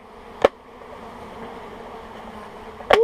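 Honey bees from a package being shaken into a hive box hum in a low, steady drone. Two sharp knocks or bumps stand out near the start and the end.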